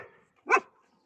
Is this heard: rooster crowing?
no